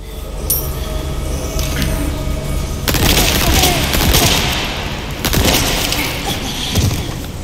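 Gunshots in the Resident Evil 4 video game, set in a castle: a few sharp, loud shots, one early and two heavier blasts later, over steady background game noise.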